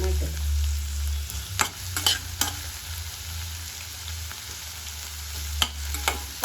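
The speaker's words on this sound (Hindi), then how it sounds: "प्याज अच्छे से गोल्डन ब्राउन हो गया है। अभी मैं इसमें ऐड करूंगी टमाटर।" Tomatoes added to golden-brown onions in a frying pan, a steady, moderate sizzle broken by a few sharp utensil taps and knocks.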